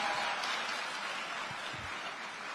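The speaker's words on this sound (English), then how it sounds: "So this is the kind of audience that'll cheer for that sort of thing" Studio audience at a live talk show clapping and cheering, a dense steady wash of applause at moderate level that holds throughout without any voices on top.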